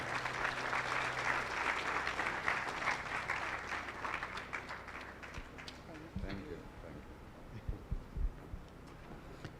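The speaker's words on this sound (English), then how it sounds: "Let us clap for them kindly." Audience applause at an education and leadership congress on refugee scholarships, a dense broadband patter that fills the first several seconds, then thins into scattered claps while a voice begins over it.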